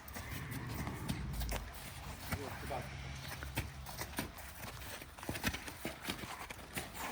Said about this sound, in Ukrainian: Суперова така кобилка.